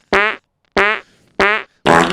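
Three short, loud fart sound effects in a steady rhythm, each a brief buzzy blast, followed by a fourth noisier burst at the end, with no talking.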